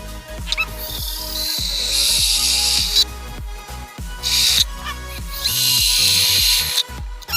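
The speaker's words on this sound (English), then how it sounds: "Next I'm just going to drill some holes so that way I can attach this." A power drill whirs in repeated bursts, spinning up and cutting out several times, loud and close with short pauses between.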